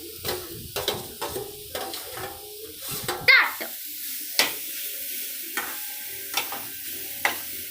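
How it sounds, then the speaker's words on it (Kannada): Grated carrot fries in ghee in a pan, a soft continuous sizzle under repeated scraping strokes of a spoon stirring at close range, one sharper clink of metal midway. "ತುರಿದಿರೋ ಕ್ಯಾರೆಟ್ ಹಾಕ್ತಾ ಇದ್ದೀವಿ."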